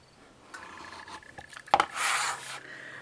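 Trimming the end of a fabric quilt block makes a short scraping, rasping cut, preceded by light taps and rubbing close by, with no talk.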